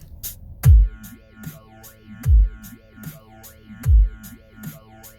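Synthesizer pattern in FL Studio Mobile with XY frequency automation, looping sweeping tones over a deep bass thump that hits about every one and a half seconds, steady and fairly loud with no voices.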